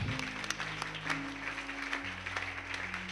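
A church congregation claps during a live worship service, with steady applause over sustained organ or keyboard tones and faint voices behind it, heard from some distance and fairly quiet.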